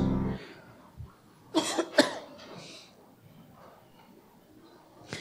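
A woman with a cold gives a short series of coughs and throat clears, loud and close, separated by quiet breathing pauses.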